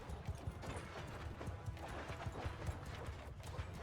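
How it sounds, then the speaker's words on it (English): Cavalry horses galloping across a battlefield in Mount & Blade II: Bannerlord, a dense, rapid drumming of many hooves close by, rolling continuously under a faint background din. "Here come the horses."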